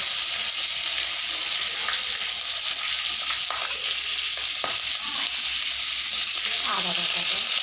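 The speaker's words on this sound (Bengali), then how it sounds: "এবারে কড়াইয়ের মধ্যে দিয়ে দেবো আমি কাঁচা লঙ্কাগুলো" Chopped green chillies fry in hot oil in a wok, giving a loud, steady sizzle with crackling bursts and the occasional scrape of stirring.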